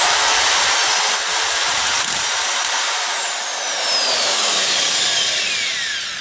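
A vintage Milwaukee 8600 tapper runs steadily and loudly with a whining drive, its pitch sliding as the motor reverses direction, then surging back up, with no talking.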